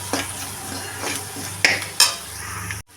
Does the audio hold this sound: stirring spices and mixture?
yes